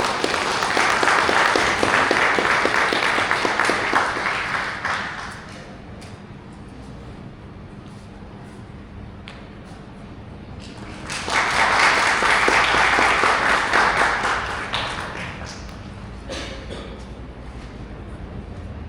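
WordCamp conference audience claps for a speaker in two loud bursts of dense applause, the first fading after about five seconds, a quieter lull, then a second strong round swelling and slowly thinning out.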